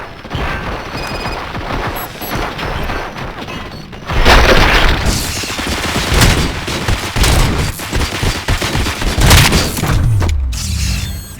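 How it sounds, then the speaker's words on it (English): Rapid gunfire and heavy impacts from a shootout in the video game RoboCop: Rogue City, quieter at first and then surging into a loud, dense barrage of overlapping shots and crashes after a few seconds. "Fire at will."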